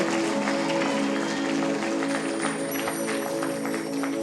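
Audience applause fills a theatre during a Prem Ramayan performance in Lucknow, a dense, steady wash of clapping that holds loud and even throughout, with faint tonal sound underneath.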